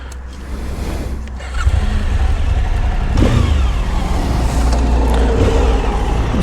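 A 2018 Suzuki V-Strom 1000XT motorcycle engine running steadily and then building in loudness as the bike rides off, with a rumbling low drone mixed with wind and road noise.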